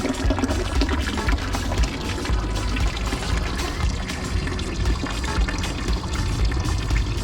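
The Tinguely Fountain in Basel, Switzerland splashes continuously in a steady, dense rush with no pauses, fairly loud and close.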